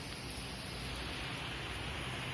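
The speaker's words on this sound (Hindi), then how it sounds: "झमाझम बारिश हो रही है" Heavy monsoon rain pours down in a dense, continuous hiss, loud and close, with no pauses and no voices.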